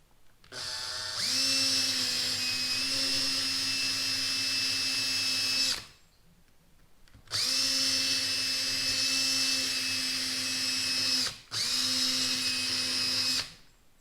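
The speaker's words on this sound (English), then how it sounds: "So I've set the drill on low speed, and it just kind of peels it right off of there." A power drill on low speed spinning a 3M Stripe Off adhesive removal wheel whines steadily at a high pitch in three long bursts, stopping briefly between runs, close and fairly loud with no talking.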